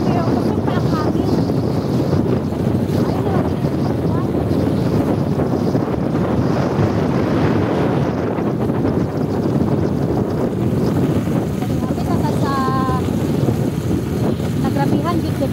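Strong wind from Typhoon Verbena buffets the microphone in a constant dense roar that stays loud and steady throughout, with faint voices and brief chirps now and then beneath it.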